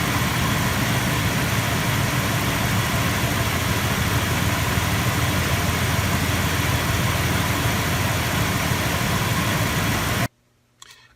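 A car engine idles steadily after its battery was charged with a Topdon Tornado 4000 charger and maintainer, a constant close rumble that cuts off abruptly near the end.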